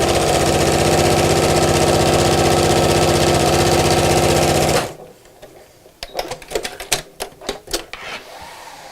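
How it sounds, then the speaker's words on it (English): A sewing machine runs loud and steady for about five seconds, stitching the seam of a fabric phone charger holder, then stops, followed by quieter handling clicks and fabric rustles. "Then line up these two sides and sew down here."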